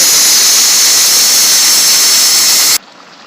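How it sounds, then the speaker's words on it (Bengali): Loud, steady steam hiss blasts from a pressure cooker being opened after cooking chicken, a bright continuous rush that cuts off abruptly near the end, leaving a faint residual hiss. "এখন আমি প্রেশার কুকারটা খুলে"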